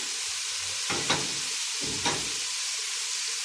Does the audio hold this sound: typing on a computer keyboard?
no